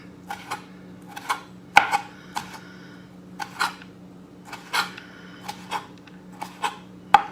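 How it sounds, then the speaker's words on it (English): A knife tip slicing through tomato skins on a cutting board: about a dozen crisp, separate taps and cuts at an irregular pace over a steady low hum, close and fairly quiet, with no talking. "I do the same thing with the tomatoes. Use the tip. Cut through your skin there."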